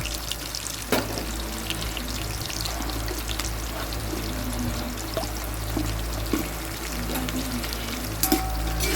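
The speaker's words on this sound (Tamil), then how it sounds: "ஆனியன் நல்லா ஃப்ரை ஆகிற வரையும் வெயிட் பண்ணலாம்." Onions frying in ghee with cinnamon, cloves, cardamom and bay leaf for chicken biryani, a continuous bubbling sizzle over a low rumbling hum, with a few brief clinks and no talking.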